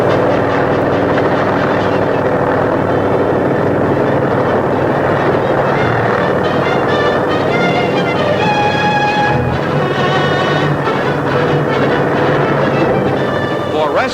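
A helicopter lifting off with 17 passengers and over 2,500 pounds of cargo, its engine and rotors making a loud, steady, continuous drone throughout, with a spoken voice faintly audible over the noise.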